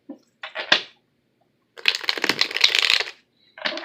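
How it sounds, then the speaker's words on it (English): A tarot card deck is shuffled by hand in short bursts: a couple of quick riffles, a pause, then a longer crisp flurry of cards slapping together, close and fairly loud, ending with another brief riffle. "Okay, so one more shuffle, then we'll cut the deck"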